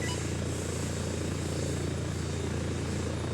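Helicopter rotor drone from ARMA 3 as a chopper comes in to land, a steady loud whirring thump that fills the whole stretch with no talk over it.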